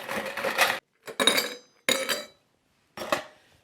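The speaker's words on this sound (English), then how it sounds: "We're going to start by putting a little bit of ice in that glass." Ice dropped into a cocktail glass while a harvest apple ginger spritz is being made: four short bursts of clinking and rattling, close and fairly loud, separated by brief silences.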